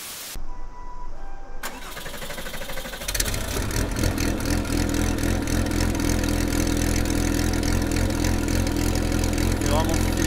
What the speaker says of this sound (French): est-ce qu'on se referait pas un petit démarrage brutal, un petit son de moteur avant de finir cette vidéo?